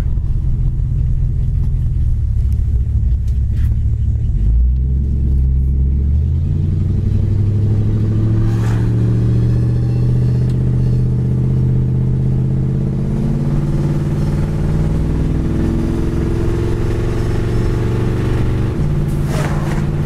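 A 1964 Ford Galaxie 500 drives down the road: a steady, close engine rumble fills the cabin, with the pitch and load changing as the automatic transmission shifts smoothly a few times. No one speaks.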